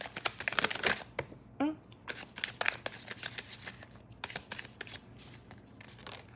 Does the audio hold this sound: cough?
no